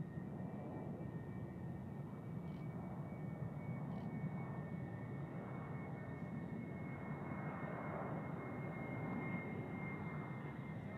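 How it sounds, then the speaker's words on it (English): An F-16 fighter jet flies near Tucson International Airport, a steady, fairly faint engine roar filling the whole stretch without pauses and with no voices. "Our friendly neighborhood F-16."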